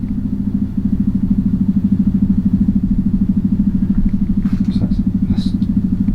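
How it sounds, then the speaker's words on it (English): A motorbike runs outside with a steady low engine drone and fast regular pulsing, holding at a moderate level throughout while faint sharp clicks and a few brief higher sounds surface near the end. "that's obviously a motorbike outside"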